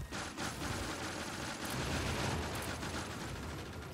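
Automatic turrets fire continuously at attacking biters in Factorio, a dense, steady rattle of rapid gunfire that fills the whole stretch with no pauses and no voices.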